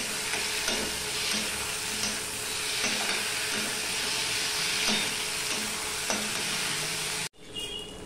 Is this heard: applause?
no